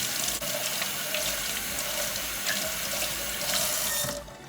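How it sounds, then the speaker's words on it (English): Tap water runs steadily into a sink while a makeup brush is rinsed under it, a continuous close splashing rush that cuts off abruptly at the end, with no talking. "And rinse the brush."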